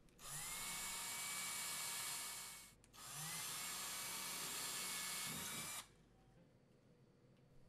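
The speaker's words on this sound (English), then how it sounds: "Then drill the holes for the fasteners using the marked holes." A power drill boring pilot holes into a wall to mount a Purell/GOJO TFX hand sanitizer dispenser, two long loud steady whirring bursts separated by a short pause, then quiet room tone.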